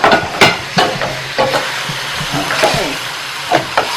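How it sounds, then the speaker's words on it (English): Chopped garlic frying with pork in a pan, stirred with repeated sharp scraping strokes over a steady close sizzle, with a brief spoken word. "we add our garlic, chopped garlic. Okay, there we go. Continue to stir."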